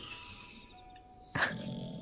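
A sleeping dog lets out a brief, low growl, close by and fairly quiet, over steady indoor background hum.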